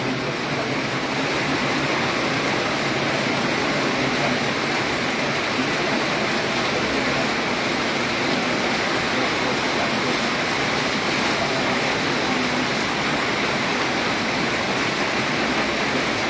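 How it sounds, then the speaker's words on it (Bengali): Heavy rain pouring steadily in Cumilla during a storm, a dense and loud hiss that stays even and unbroken throughout with no talk. "প্রচণ্ড বৃষ্টি"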